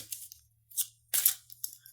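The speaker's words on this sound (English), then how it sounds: "I'm going to shuffle the cards." Tarot cards being shuffled indoors, heard as a few short, soft riffling bursts separated by brief pauses, close and quiet with no talking.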